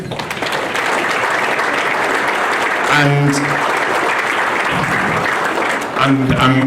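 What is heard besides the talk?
applause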